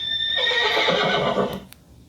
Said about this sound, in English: Who else should I say hi to? The horse.